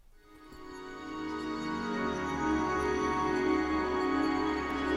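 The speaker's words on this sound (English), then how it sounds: "This is literally the intro turned backwards." Sustained, swelling tonal music with a smeared, backward-sounding onset that builds steadily in loudness, dense and layered throughout.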